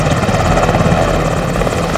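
Loud, steady helicopter rotor and engine noise, close by and continuous, with a dense low throb filling the whole stretch.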